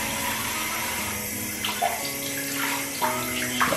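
Bathroom tap water runs steadily to wet a beard, a loud continuous stream with splashing and changing flow as hands move through it, no talking.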